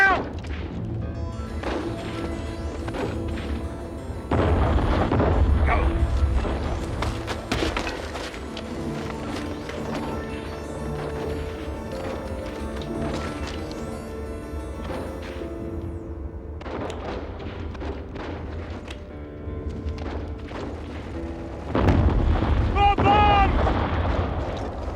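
Heavy explosions boom from bombs in a WW1 trench battle, loud recurring blasts over continuous rumbling gunfire and chaos, with shouting voices mixed in.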